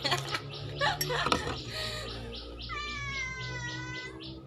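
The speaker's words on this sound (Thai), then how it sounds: "อย่าเพิ่งร้องทะเลาะกับแมวก่อน" A cat meows and wails in drawn-out, rising cries that grow more insistent, while a person talks over the start.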